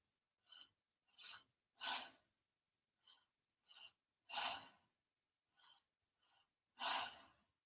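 Three rounds of breathing, each two short, sharp inhales followed by a longer, fuller exhale, close and fairly soft, with quiet pauses between rounds and no talk.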